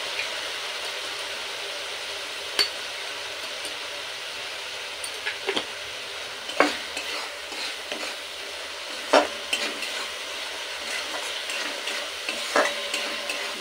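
Spices and salt are stirred and fried in a pan for an aloo chingri kosha (potato and shrimp curry). A steady broadband sizzle runs throughout, broken by sharp scraping clicks of the spoon at irregular moments, and no one speaks.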